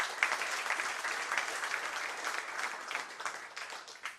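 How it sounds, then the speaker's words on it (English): Audience applause at an annual general meeting, a steady wash of many hands clapping together, fairly soft and distant, with no talking over it. "Please join me in congratulating them with a round of applause."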